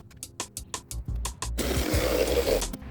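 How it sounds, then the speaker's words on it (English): A jigsaw cuts wooden backing plates for a shovel rack in a workshop, starting with a few short bursts before settling into a loud, steady buzzing cut. "I'm using a jigsaw here"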